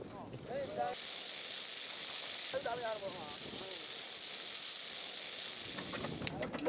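Fire burning plastic insulation off copper wire at a Ghana e-waste site, a steady crackling hiss like sizzling, with a voice talking over it at moments.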